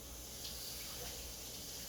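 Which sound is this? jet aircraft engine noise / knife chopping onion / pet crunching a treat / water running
water running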